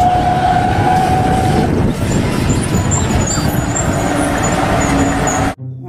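A toy tow truck produces a loud, continuous rumbling engine sound with a steady tonal siren-like hum and a brief air-brake hiss, stopping suddenly at the end.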